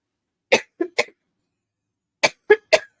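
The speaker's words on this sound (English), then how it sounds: "I still got that cough." A person with a lingering cough lets out two clusters of three sharp dry coughs each, close and loud, with silence between the clusters.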